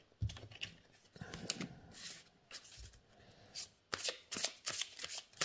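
New oracle cards shuffled by hand, producing crisp riffling bursts and slides in quick irregular clusters, close and fairly loud with no talk over them.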